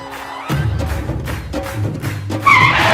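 A car skids with a harsh tire screech that starts abruptly and runs steadily for a few seconds, loud and close, swelling near the end.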